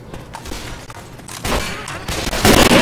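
Rapid gunfire in a Left 4 Dead 2 zombie fight crackles in repeated bursts that grow louder and denser, with a heavy volley near the end, busy and close.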